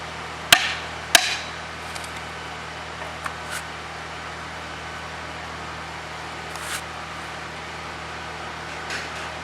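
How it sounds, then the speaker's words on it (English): Two sharp, loud hammer blows from a larger hammer striking a piece of wood laid on a segmental retaining wall base-course block, followed by faint scattered knocks and quiet outdoor ambience. "So I'm going to use my piece of wood and a larger hammer."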